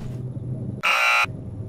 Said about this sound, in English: these walls don't have very good noise isolation. Yeah, one of uh, Rage's friends um, basically remixed the fire alarm